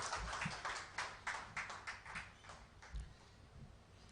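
A classroom audience claps for a teacher at a coaching class, with uneven bursts of clapping that swell and fade, fairly faint and somewhat distant, with no talk over it.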